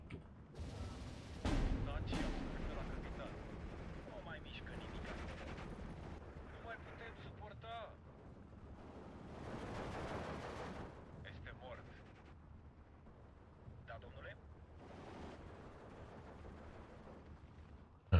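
Mortar and gunfire in the Steel Division 2 war game, with repeated distant booms and crackling bursts of shots rising and falling over a low rumble, while someone talks over them.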